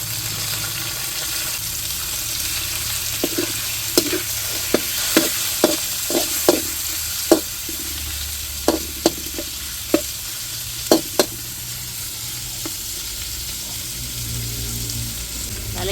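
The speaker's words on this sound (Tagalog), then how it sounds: "Ayan po at lalagay na po yung karning baboy." Pork frying with onions in a pan, a steady soft sizzle punctuated by a run of sharp utensil clicks and scrapes as the meat is stirred.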